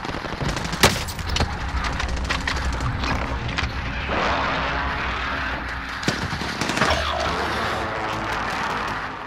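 Gunfire in the video game Call of Duty: Modern Warfare: sharp single shots and rapid bursts crack loudly over a dense battle rumble, with an irregular rhythm throughout.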